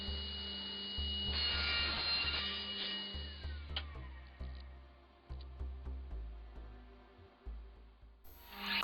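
Wooden tenons on cabinet door rails being cut to length with a power saw, a steady hum broken by a run of short, repeated cutting bursts that rise and fall close to the microphone, with no talk.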